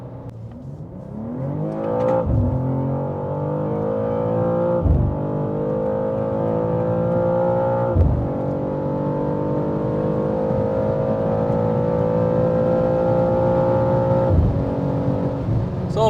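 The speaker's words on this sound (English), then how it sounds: "this was my Autobahn video with the brand new BMW M2 G87" A 2023 BMW M2 G87 accelerates hard on the Autobahn, its engine droning loudly and climbing in pitch through several gears, with brief dips at each upshift, heard steadily from inside the car.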